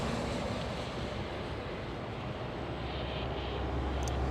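A KLM Boeing 777-300ER at Schiphol airport rumbles as a broad, steady engine roar, even and moderately distant across the whole stretch with no talk.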